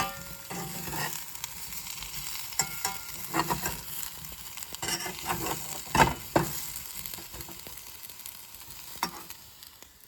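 Purslane (verdolagas) frying in a pan as it is stirred, a soft steady sizzle broken by scattered scraping and clicking spatula strokes, close and fairly quiet with no talking.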